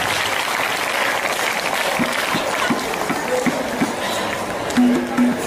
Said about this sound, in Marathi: आपण सर्वांनी एकदा जोरदार टाळ्या वाजवून साहेबांचं स्वागत करायचं आहे